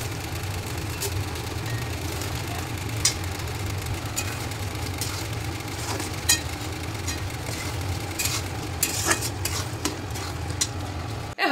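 Curry being stirred and mixed in a frying pan, a steady scraping and shuffling with faint sizzle over a low continuous hum, with occasional sharper clinks of the spoon against the pan.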